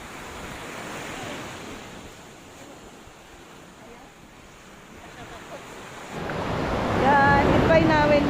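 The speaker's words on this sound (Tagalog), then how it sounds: "ang lakas ng alon" Strong surf waves at Sani-Sani Beach in Sulu, a steady wash of water and wind that swells and grows louder toward the end, with bursts of breaking waves close by.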